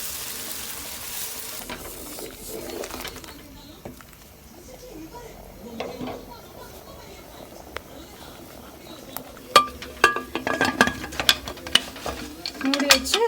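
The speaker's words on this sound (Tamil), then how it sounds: "நல்லா தண்ணி கொதிச்சதுக்கப்புறம் குக்கரில் வந்து கம்பு போட்டுருங்க" Pearl millet is poured into boiling water in a pressure cooker, with bubbling and a soft stir at first, then rattling, clinking pours and scraping toward the end as a voice talks.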